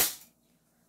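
One sharp crack from an airsoft pistol firing at a range, close and brief, decaying quickly into quiet.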